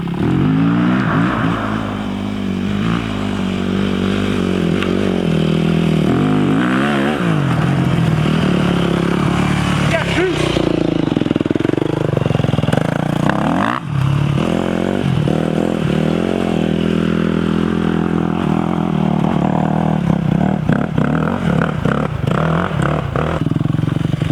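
A 2008 Yamaha YZ250F dirt bike roars continuously as it is ridden through a sand pit, its engine revving up and down loudly and close, with clattering and scraping from the terrain.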